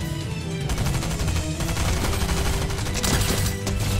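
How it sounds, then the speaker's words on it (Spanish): Rapid automatic gunfire in the video game Fortnite, a loud, dense, continuous burst of shots lasting several seconds with little letup. "¿Lo están disparando, Patrick?"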